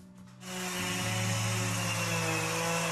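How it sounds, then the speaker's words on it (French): A power sander switches on and settles into a steady, close whirring drone with a rough grinding texture against the surface of a wooden cross. "Je vais passer un coup de ponceuse sur la surface de la croix"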